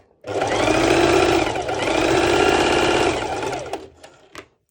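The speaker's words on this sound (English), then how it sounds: "I will be doing another basting stitch here so it's easier" Home sewing machine running a basting stitch on a bikini top with ruffles, a loud close steady whir for about three seconds before slowing and stopping with a few faint clicks.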